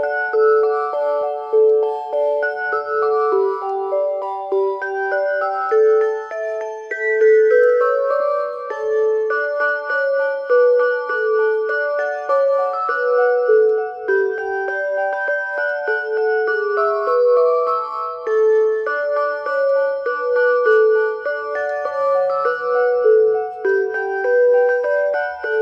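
A Seiko melody wall clock chimes out Jingle Bells as a clear, bright electronic tune of many evenly paced notes, heard alone and in quiet surroundings for the whole stretch.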